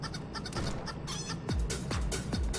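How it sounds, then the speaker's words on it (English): Crazed farm chickens in the horror game Fear Games cluck and squawk in loud bursts, with three sharp falling calls near the end over a busy game backdrop. "So you gotta defend your farm, your pigs, your dog, and yourself from these crazy chickens."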